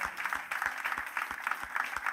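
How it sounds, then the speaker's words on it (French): Congregation in a church service applauding, a steady, moderately loud wash of many hands clapping with recurring rhythmic claps, no talk over it. "Applaudissons"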